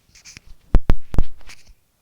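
Chalk or marker writing on a board in a maths lesson, a few short, sharp scraping strokes close by in quick succession, with no talk over them.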